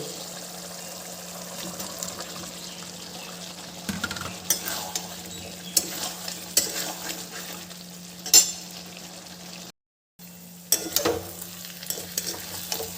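Yam sizzles in a pan with turmeric and spices while a spatula stirs and scrapes through it, a continuous frying crackle with intermittent scraping strokes and one brief silent gap.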